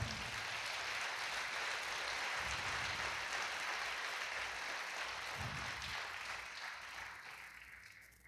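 A church congregation applauds together, a dense sustained wash of clapping that carries steadily and then tapers off toward the end, with no talking over it.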